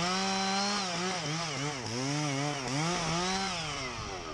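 Chainsaw with a 32-inch bar cutting through a tree during felling, a loud, steady close-up engine whine that rises and dips in pitch as the chain bites, running continuously with no talk.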